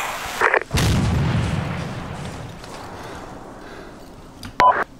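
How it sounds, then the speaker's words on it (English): A heavy boom with a long rumbling tail, bracketed by sharp bursts of gunfire at the start and near the end, in Arma 3 gameplay with the JSRS 2.0 sound mod. "We've got explosions in the town right now"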